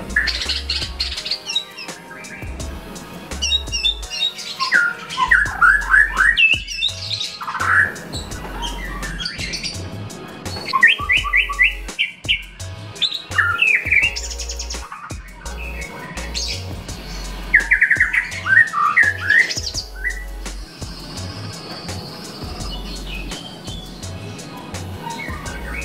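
A white-rumped shama (murai batu) sings at a bird contest, delivering bright varied whistles, trills and chirping phrases in repeated bursts, close and clear, over steady background noise and faint low thumps.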